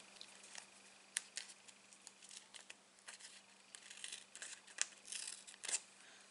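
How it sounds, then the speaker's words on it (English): Scissors snip through a strip of mini foam adhesive dimensionals at a card-making desk, giving several quiet, separate cuts with faint crinkling between them and no talking. "I'm going to grab my scissors. And I'm going to cut a line of half size ones."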